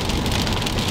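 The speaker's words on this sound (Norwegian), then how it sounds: "Så lenge det ikke regner sånn som det gjør nå, da." Loud, close rain drumming on a surface in Norway, a dense continuous patter filling the whole moment with no talking.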